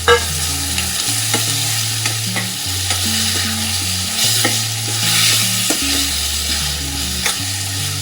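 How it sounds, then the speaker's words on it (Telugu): Fried chicken pieces are stirred into a gravy on medium heat, giving a close, steady sizzle with scraping stir strokes, while soft background music plays and nobody speaks. "ఇప్పుడు ఏమాత్రం ఫ్రై చేయకుండా ఈ ఫ్రై పీసెస్ ఉంటాయి కదా చికెన్వి, ఈ చికెన్ వేసేయాలి."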